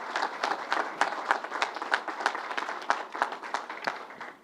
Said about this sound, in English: Let's give a big round of applause to everyone you heard from